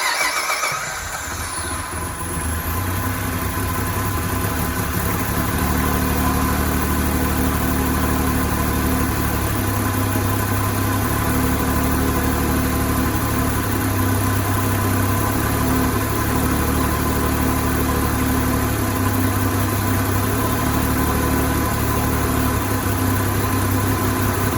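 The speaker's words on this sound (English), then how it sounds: "Let's just start the car." A Saab 9-3 V6 turbo with a 3-inch catless downpipe fires up with a short starter whir, then settles into a loud, steady idle with a constant drone and a faint high whine.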